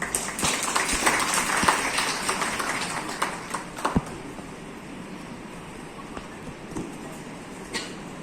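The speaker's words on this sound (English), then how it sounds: "Please give him a round of applause" Audience applause for a nuclear medicine speaker at an IIT research scholar day, a dense wash of clapping that is strongest at first and then thins and fades, with a few louder single claps standing out.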